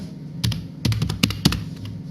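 A computer keyboard is typed on in short bursts: a handful of crisp, close keystroke clicks at irregular intervals over a quiet room background, with no speech.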